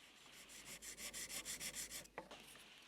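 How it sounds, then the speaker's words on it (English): Rapid back-and-forth rubbing of 1500-grit sandpaper wrapped around a screwdriver, about a dozen quiet rhythmic strokes, then a small tap and stillness. "I started with some 1500 grit paper wrapped around a screwdriver"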